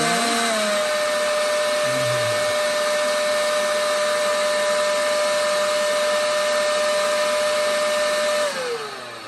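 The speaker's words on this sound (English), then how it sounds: "And that is your blower right there." Lazyboi leaf blower running with a loud, steady high-pitched whine and rushing air at close range, its tone shifting slightly near the start, then dropping as it begins to wind down at the end.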